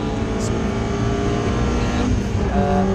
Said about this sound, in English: Chris Murphy just behind, trying to slip around the outside.